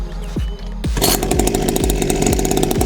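A 49cc kids' mini dirt bike engine is pull-started: a few quick rope pulls, then the small two-stroke catches and buzzes steadily, close and loud, with no talking.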